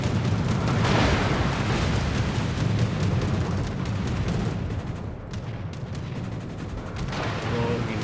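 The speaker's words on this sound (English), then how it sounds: "Some AA fire going here." Continuous dense rattle of anti-aircraft guns firing from a British tier 8 premium heavy cruiser in World of Warships, with booming rumble underneath and no gaps.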